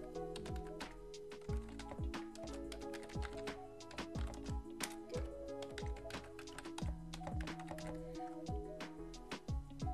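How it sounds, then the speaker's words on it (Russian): Continuous typing on a computer keyboard with Caps Lock on, a quick uneven stream of close key taps over a steady low hum, with no talking. "А я в данном случае просто пока печатаю, используя Caps Lock."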